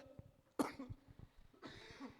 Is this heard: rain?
no